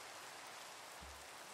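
Steady video game rain, from Minecraft, pours down in a continuous hiss, even and unbroken throughout, with no voices.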